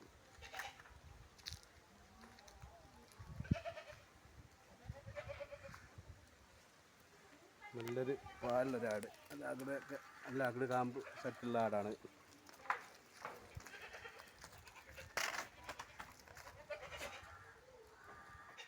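Malabari milk goats bleat several times in a row, fairly close, while someone talks on and off around them.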